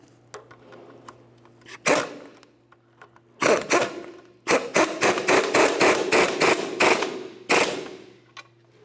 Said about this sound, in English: Let's hold the bolt with a 16mm wrench and we'll tighten the nut.